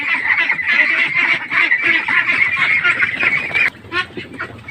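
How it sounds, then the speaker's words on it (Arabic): Domestic ducks in a home poultry yard, eating and drinking from a small water dish: a steady stream of nasal quacks and honking calls, close and fairly loud, with dabbling and splashing underneath. "البط باكل وبيشرب اهو"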